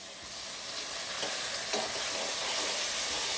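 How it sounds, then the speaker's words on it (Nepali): Pork meat frying in a pan for chowchow, a steady crackling sizzle that holds close and even throughout, with no voices. "सुँगुरको मासु फ्राई हुँदैछ।"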